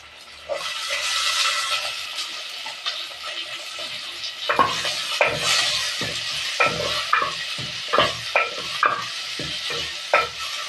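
Garlic, onion and green chillies fry in a pan with a steady sizzle, while a spoon stirs and scrapes against the metal in repeated clacks throughout.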